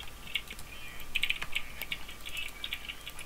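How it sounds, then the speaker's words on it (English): Computer keyboard typing in bursts, light rapid clicky keystrokes close up over a faint background hum, no talk. "I don't think it's my keyboard."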